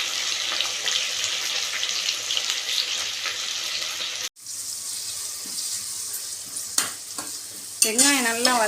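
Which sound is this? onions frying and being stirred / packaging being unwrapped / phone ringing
onions frying and being stirred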